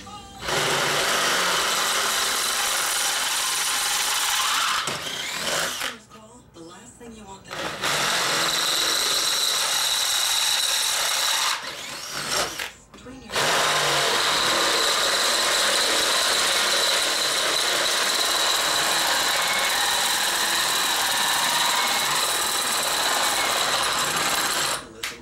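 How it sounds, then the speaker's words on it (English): A power drill whirs loudly and steadily in bursts at a workbench, drilling bolt holes for a bed trailer, pausing briefly twice before running on for a long stretch. "drill out the holes"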